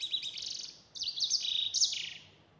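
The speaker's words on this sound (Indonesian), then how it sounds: "Edel sanger, salah satu burung, yang masuk keluarga jenis burung kenari." An edel sanger, a songbird of the canary family, sings alone and close by in bright rapid trilling phrases with short pauses between them.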